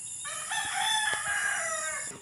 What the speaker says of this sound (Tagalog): May mga manok pa dyan, ang maingay ng mga sisiw.